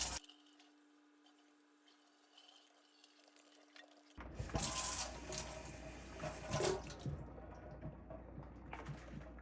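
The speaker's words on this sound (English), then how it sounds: "I'm gonna run some water over it" Water running from a tap over a frozen part of a SetPower AB16 12-volt car fridge: a quiet stretch, then a sudden loud, close gush of splashing water that continues, rising and falling unevenly.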